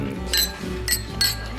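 Drinking glasses clink during an evening toast in a bar, three bright short chimes spaced apart over a low room hum.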